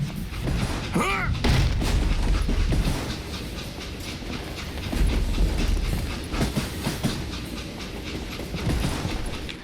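In the Call of Juarez: Gunslinger video game, an express car rumbles along the rails with a heavy, continuous roll, rhythmic clacking and metallic screeches, and occasional booming thuds throughout.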